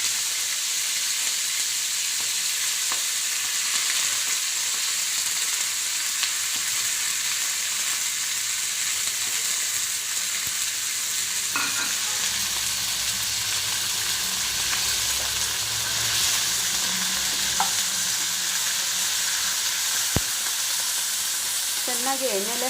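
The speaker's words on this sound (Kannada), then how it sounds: "ಚೆನ್ನಾಗಿ ಎಣ್ಣೆಲೆ ಫ್ರೈ ಆಗಬೇಕು ಮೆಂತ್ಯ ಸೊಪ್ಪು." Fenugreek leaves fry in oil with cumin and a pinch of asafoetida, giving a steady broadband sizzle with occasional stirring scrapes and clicks, close and continuous without talk.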